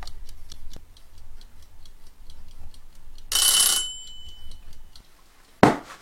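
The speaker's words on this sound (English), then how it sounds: "Alright, let's set the timer." A kitchen timer ticking steadily in a quiet room, a regular run of crisp, evenly spaced ticks, interrupted by a short bright hiss partway through and a sharp clack near the end.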